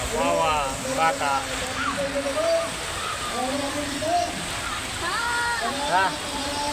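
Rain falls as a steady hiss at an outdoor political rally in Sawangan Park, Legazpi, beneath people talking close by throughout.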